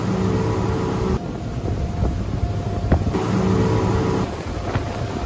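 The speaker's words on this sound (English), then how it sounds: "let's listen to a boat using a standard and toroidal one" A boat motor running with a standard propeller and then a toroidal one, a steady droning engine and propeller noise with a faint high whine, the character shifting noticeably at a few points.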